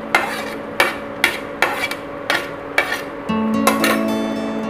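A spoon scrapes and knocks around a pot while baingan bharta ingredients are stirred and mixed, giving about eight evenly spaced clinks that end in a continuous scraping rattle, close and clear with no voices.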